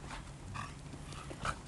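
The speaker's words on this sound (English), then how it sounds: "Betty Pup, it is a playful dog." A playful dog gives brief, soft whimpers mixed with low growling, faint and close, with no talk.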